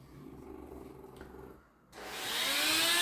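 An electric drill boring into sea glass with a water-wetted bit hums quietly, pauses, then spins up into a loud, steady, high whine close by.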